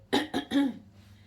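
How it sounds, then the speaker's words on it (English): Three quick, harsh coughs in a row, close up, followed by silence. "Excuse me, coughing."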